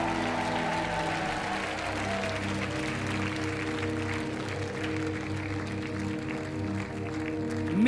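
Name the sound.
studio audience applause on French game show Money Drop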